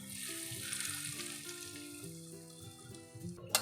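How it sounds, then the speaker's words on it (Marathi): A hot mustard and asafoetida tempering poured over guava salad gives a soft, close sizzle under faint background music, ending with a sharp clink. "आता आपण ही जी फोडणी आहे ही यावरती घालणार आहोत"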